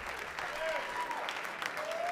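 Applause rolls on from a comedy club audience at Gotham Comedy, a brief wash of clapping with some crowd noise and a voice or whoops riding over it.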